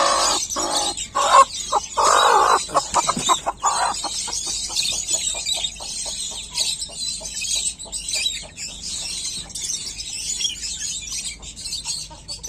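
A hen clucks repeatedly in a small backyard coop where chicks are hatching, close and fairly loud, with short sharp clucks in irregular bursts, a few longer squawks early on, and rustling in between.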